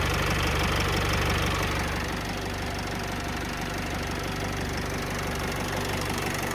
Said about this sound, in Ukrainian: Працює моторчик класно